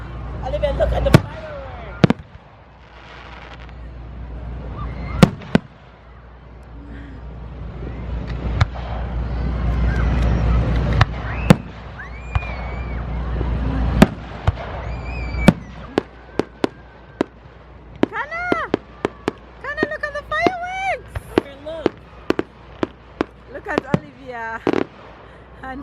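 Fourth of July fireworks in New Jersey burst in a rapid series of sharp bangs and crackles, some distant booms and some near pops, while people talk, cheer and exclaim throughout.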